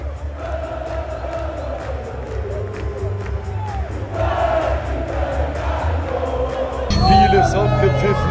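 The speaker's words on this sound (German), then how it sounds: "Alle jubeln nach oben." A large football stadium crowd roars and cheers during a Benfica versus Porto match, with a dense, steady wall of voices that grows louder partway through and surges again near the end.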